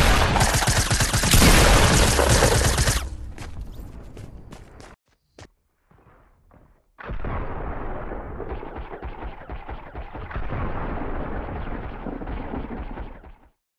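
Blasts from a blue shotgun in the video game Fortnite: a dense loud burst of gunfire and explosions, then a few sharp isolated shots and near silence, followed by another sustained stretch of heavy firing.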